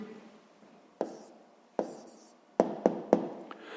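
A pen writes out the answer to a sixth-grade maths exercise in short, scratchy strokes, punctuated by several sharp taps against the page, close and fairly quiet in a still room.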